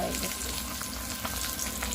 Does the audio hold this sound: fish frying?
yes